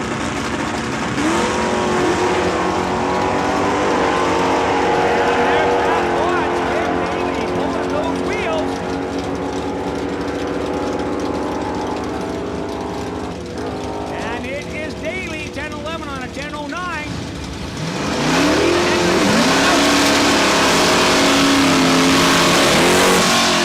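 Drag race cars, a Barracuda and a 1971 Dart, launch at a raceway, their engines roaring and revving hard before a brief lull and a loud renewed surge, with an announcer's voice running over the roar.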